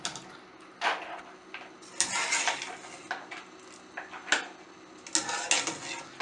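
Cooked rice is tipped into a colander to drain, giving a series of clattering metallic knocks and scrapes of a pot against the strainer, with rushing water beneath, fairly close and irregular.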